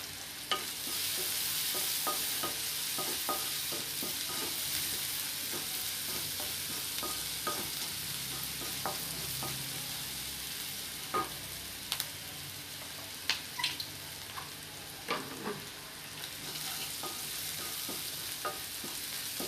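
Masala pasta is stirred in a pan over a low, continuous frying hiss. A few sharp taps and scrapes of the spoon stand out toward the end. The sound is fairly quiet, with no talking.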